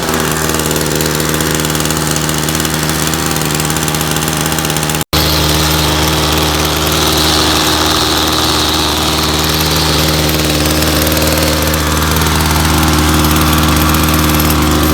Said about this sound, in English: I'm gonna let it warm up a little bit, and then I may make an adjustment to the idle